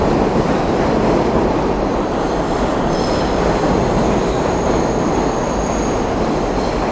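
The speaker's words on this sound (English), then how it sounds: "That train was packed." A New York City subway train rumbles past at a Brooklyn station, loud and continuous, with wheels grinding and faint squeals over the roar.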